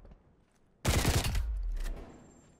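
Dense, loud burst of rapid automatic gunfire in a video game erupts suddenly after near silence and rattles on for about a second before tailing into rumbling echo.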